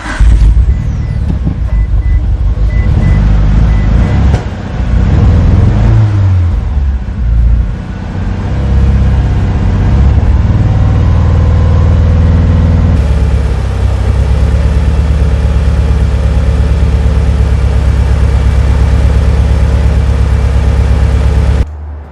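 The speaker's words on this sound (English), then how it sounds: "let's go ahead and fire up the car and hopefully it runs good" A Mitsubishi Lancer Evo 8 engine cranks and catches, revving unevenly at first before settling into a loud, steady idle with a deep rumble that continues to the end, with no talking.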